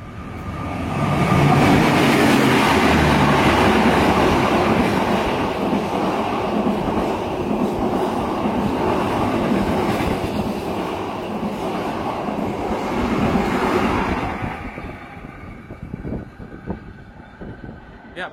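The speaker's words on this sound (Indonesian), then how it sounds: "papasan sama kereta api Taksaka Jogja Jakarta di stasiun Jatibarang" A business-class carriage on Indonesia's Tegal Bahari train rumbles loudly, with a steady roar and rattling wheels as the train passes another train near Jatibarang station, then fades to a quieter hum with faint clicks near the end.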